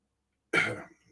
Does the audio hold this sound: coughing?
yes